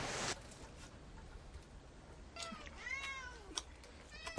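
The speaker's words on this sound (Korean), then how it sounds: "그리고 미역섬엔 고양이 2마리도 있습니다." A cat on a small remote island meows several times in quick succession, clear and fairly close, after a brief burst of noise at the start, over a quiet outdoor background.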